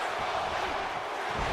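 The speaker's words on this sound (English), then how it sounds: "Crowd cheering on his co-GM right now, giving him a standing ovation." Wrestling crowd in an arena cheering and applauding in a standing ovation for a co-general manager in the ring, a dense, steady roar of voices and claps throughout.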